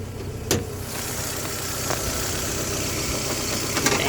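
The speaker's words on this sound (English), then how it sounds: "it sounds like the pulleys are fucking spinning" A Toyota Celica ST with a 1.8 engine runs at a steady idle, a dense close mechanical hum with the whirr of spinning pulleys and a few faint clicks, no speech.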